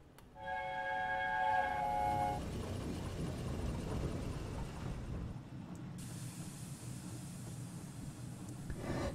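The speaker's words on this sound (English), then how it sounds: "just watch the train go above you" A train in Train Simulator 2022 on the East Scotland route passes overhead, with a horn-like tone at the start, then a sustained loud rumbling, hissing roar that holds steady throughout.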